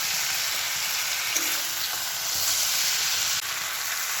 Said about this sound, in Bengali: এবার এই ভেজে রাখা চিংড়ি মাছগুলো দিয়ে দেবো এর মধ্যে একটু কষিয়ে নিন